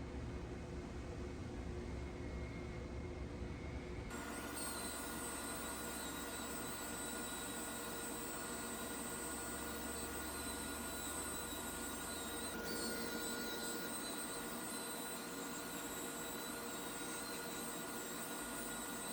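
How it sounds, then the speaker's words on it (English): A wool buffer polishes car paint with compound on an SS Camaro, making a continuous broadband whooshing drone that is steady and fairly close for the whole stretch, with a brief shift in tone early on and no speech. "you got to keep the wool buffer moving when you're doing the compound"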